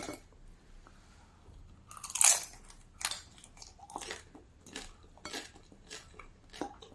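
Crisp, crunchy bites into a baked, non-fried vegan spring roll, a loud snap followed by a series of crackling chews and light clinks, close and quiet otherwise.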